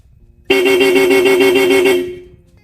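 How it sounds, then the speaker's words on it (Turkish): A Hella dual chrome car horn, with the car's engine off, sounds one steady, loud blast of about a second and a half, its two blended tones cutting off and fading quickly. "Aracımız çalışmıyorken korna sesimiz biraz daha yavaş tınılı geliyor."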